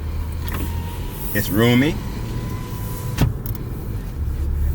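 A Toyota RAV4 four-cylinder SUV on a test drive hums quietly from inside the cabin, with a brief whirring mechanical sweep and a click, while someone talks over it.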